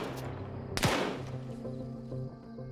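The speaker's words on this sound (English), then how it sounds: "Joseph Stalin opens that doorway, only to be mowed down by Nielsen's gunshots." A burst of gunfire in the Arma 3 video game, a sharp loud crack followed by a decaying echo over a steady ambient game hum, with a few fainter shots trailing after.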